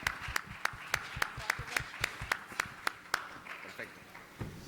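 Sharp, evenly spaced claps ring out one after another in a quick rhythm, with voices murmuring underneath.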